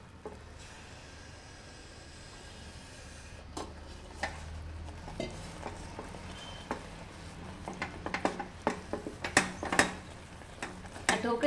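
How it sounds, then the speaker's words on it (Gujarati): Dhokli kadhi is stirred round in a pot with a spatula, giving scraping and clinking strokes that grow louder and busier toward the end over a low background hum. "અને વેગણથી બરાબર હલાવી લેવાનું છે"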